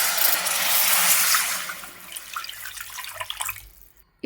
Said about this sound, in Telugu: 250 గ్రాములు వాటర్ అయితే పోసుకోవాలి